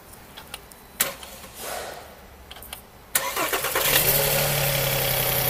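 A car engine cranks and fires after a few quiet clicks and handling sounds, then settles into a steady idle that continues to the end, close and clear with no talking.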